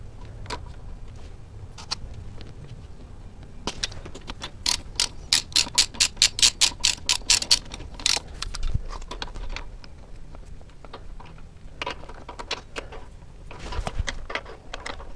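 A torque wrench ratchets while tightening bolts on a 1981 Honda Goldwing motorcycle, producing quick bursts of sharp, close clicks in runs separated by pauses, with occasional tool knocks.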